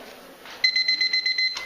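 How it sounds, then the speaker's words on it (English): An electronic performance timer at a solo and ensemble music festival beeps in a rapid, steady series of shrill, even pulses lasting about a second, loud and close, with no talk over it. "after 6 minutes it's going to beep"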